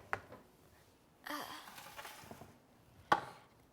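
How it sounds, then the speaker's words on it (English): A standard kitchen knife cuts potatoes on a cutting board, giving a few sparse, close knocks and scraping cuts spread over a quiet stretch, with a sharp final chop near the end. "we're going to cut up these potatoes"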